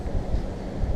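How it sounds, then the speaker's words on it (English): Gusty wind from an approaching hurricane buffets the microphone outdoors in a short, low, rumbling rush that swells and eases, with no voices. "It's been windy like this all day, sometimes worse than others"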